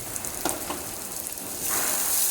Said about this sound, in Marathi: कांदा व्यवस्थित परतून कांदा शिजेपर्यंत